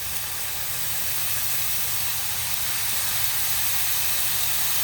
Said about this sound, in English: Y'all can hear the little sizzle.